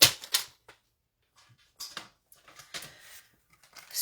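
Cardstock is cut down to a half-inch strip with a paper trimmer, giving a few short, close scraping and clicking bursts separated by silences.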